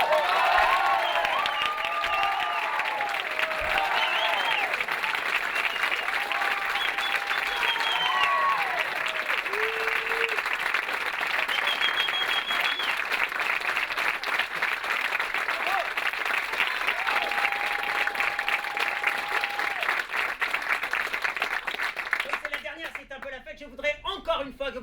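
A theatre audience claps and cheers after a show. The applause is long and sustained, with shouts and a few whistle-like cries on top, and it cuts off abruptly near the end.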